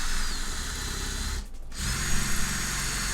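A power drill boring into a desk whines steadily and loudly up close, briefly dropping out for a moment before spinning up again with a deeper grinding tone.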